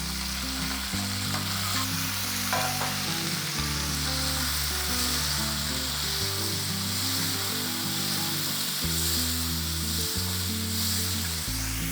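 Chopped tomatoes and curry leaves frying in a pan for tomato chutney, giving a steady, close, continuous sizzle under background music.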